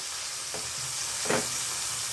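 Tomato frying in a pan for a singi fish curry makes a constant dense hiss, with two brief scraping stirs rising above the sizzle and no one speaking.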